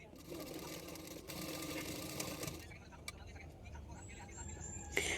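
A sewing machine stitches a blouse, its steady motor whir running for about two and a half seconds before stopping, followed by quieter handling sounds in a close indoor room.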